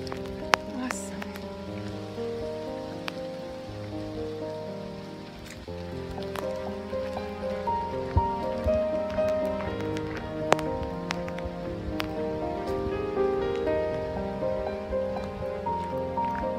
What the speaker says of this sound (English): so I was walking along in this beautiful rain